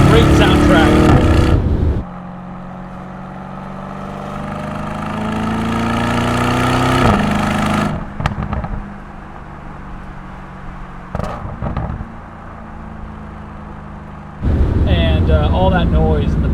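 A Lamborghini Urus S SUV on the road, its engine droning steadily under load, with loud exhaust burbles and crackling pops as the revs change, close and prominent throughout.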